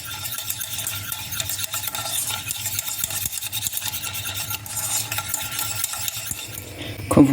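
Butter being whisked little by little into hollandaise sauce in a saucepan off the heat, a continuous close scraping and stirring rhythm of a whisk against metal, ending in a louder clatter.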